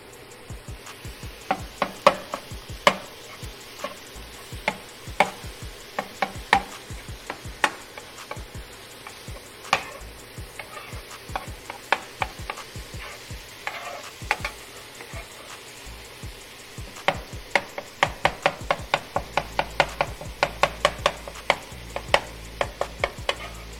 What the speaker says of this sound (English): Chop it.